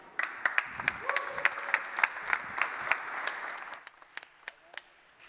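An audience at a tech conference applauds to welcome a speaker to the stage, dense clapping from a crowd that thins and fades over a few seconds.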